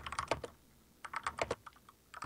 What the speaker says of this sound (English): Why are you typing?